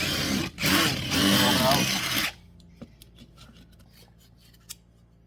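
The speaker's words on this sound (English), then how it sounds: "drill out what's left of these little ribs" A loud, whining power drill runs for about two seconds drilling out small metal ribs on a 1949–51 Ford vent window, then stops, leaving a few faint clicks and taps.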